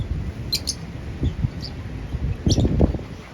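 Birds give short high chirps and calls in brief bursts, fairly close, over a low rumbling background.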